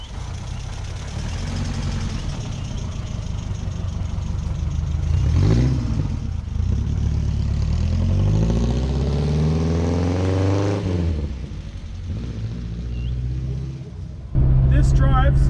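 Car with freshly upgraded suspension driven around the block on the road, a steady engine drone that rises and falls through gear changes and acceleration, with interior rumble and a brief louder thump near the end.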